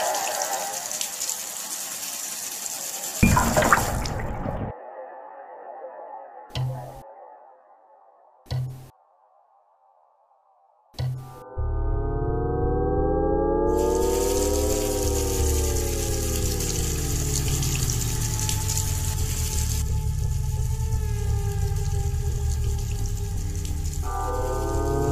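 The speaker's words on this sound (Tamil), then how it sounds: "தானாவே தண்ணி ஊத்துது." Water gushes out by itself in a scene from a Tamil short film, a steady loud rushing flow that stops briefly, breaks off again, then returns with a sustained pumping hum and tonal whine for a long stretch.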